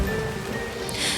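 Steady rain drumming on a surface during a passing hailstorm, a dense continuous patter at moderate level with a brief brighter splash of drops near the end, no voices.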